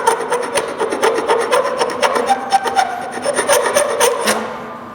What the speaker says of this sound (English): We're going to take a scraper and scrape off the glue.